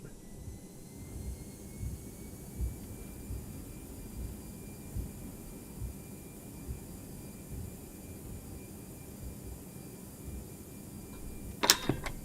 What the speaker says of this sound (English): Okay, reverse thrust set.